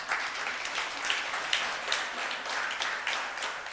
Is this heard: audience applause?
yes